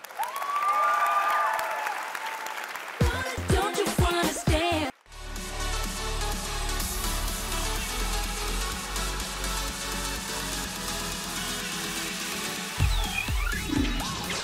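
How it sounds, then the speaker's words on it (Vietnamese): Applause from a dance competition audience over loud stage music, with cheering crowd noise blending into a steady musical backing that continues throughout. "còn chờ gì nữa mà không vỗ tay cho thí sinh Toto."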